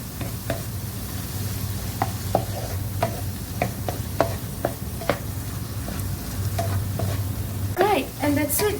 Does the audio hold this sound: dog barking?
no